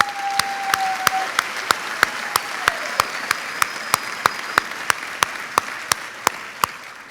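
A large commencement audience at Clovis Community College applauds the students, a steady wash of clapping heard alone.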